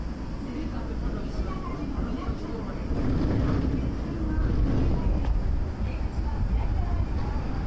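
An Osaka Metro subway train pulls out of Nakatsu station, giving a low, continuous rumble of wheels and motors that builds slightly as it gains speed, with wind-like noise throughout.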